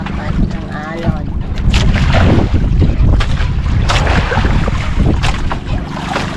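Wind buffets the microphone over choppy sea water at night as waves slap and splash against a small squid-fishing boat, loud and gusty, with a voice briefly heard.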